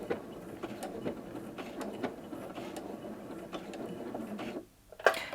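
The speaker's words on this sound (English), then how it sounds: "press the target button and that will sew several stitches on the same spot to secure the stitching" A Janome 230DC sewing machine runs a fixed stitch, hammering several stitches in one spot with a quick mechanical patter and clicking, close by, then briefly stops before a final clack.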